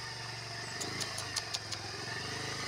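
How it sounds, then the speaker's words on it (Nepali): A motorcycle labours along a rough off-road village track in the evening, its engine droning steadily with a few sharp rattling bumps and no one speaking. "ल हेर्नुहोस् बाइक कस्तो अप्ठ्यारो भइरहेको छ"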